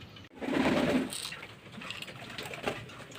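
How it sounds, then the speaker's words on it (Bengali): Pigeons cooing indoors beneath a rain-soaked rooftop, a soft, low throaty coo swelling near the start, then quieter murmuring and faint rustling. "এই নিচে কিছু পায়রাই ঘুরছে"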